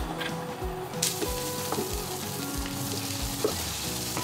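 Garlic and capers fry in a pan as the base of a tuna and tomato pasta sauce, a steady close sizzle with crackling pops and occasional stirring, no voices over it.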